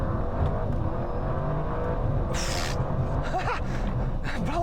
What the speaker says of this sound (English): let's take this new RS6 Performance for a hoon